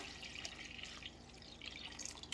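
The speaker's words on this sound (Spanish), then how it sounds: "Voy a poner agua" Water pours into a pot over cut potatoes, a faint close trickle with small dripping and splashing sounds, steady throughout with no talking.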